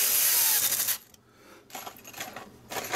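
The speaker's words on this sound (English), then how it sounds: "Box full of screws." A box full of small metal screws from an Xbox repair rattles and jingles loudly for about a second, then a quieter shake follows, with another burst of clattering at the end.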